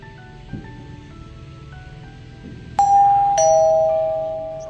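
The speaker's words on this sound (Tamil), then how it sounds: "காலிங் பெல் அடிக்குது" A doorbell rings indoors, two bright chime tones sounding one after another and decaying slowly over a soft background hum.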